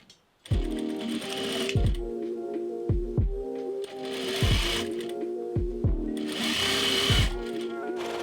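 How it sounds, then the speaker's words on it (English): A sewing machine and overlocker stitch a dress tier seam in bursts, rapid mechanical whirring that starts and stops with knocking thumps between runs, close and fairly loud. "So now I'm just gonna sew it on and overlock that."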